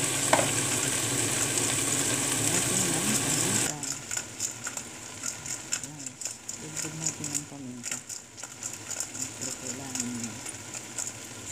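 Squash, okra and beans with dried anchovies sauté in oil in a pan, giving a loud continuous sizzle that drops and turns into softer crackling with stirring scrapes, while a person talks over it.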